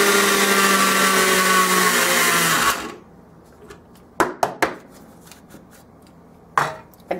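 Mixer grinder blending sesame and dal powder, a loud continuous whirring roar for about three seconds that cuts off abruptly, followed by a few sharp knocks and taps.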